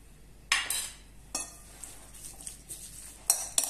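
Chicken, onion and parsley quiche filling being mixed in a bowl, with a few sharp utensil clinks and scrapes against the bowl rising over a quiet kitchen background.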